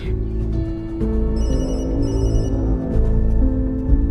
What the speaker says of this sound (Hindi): अवधेश बाबू का फोन है।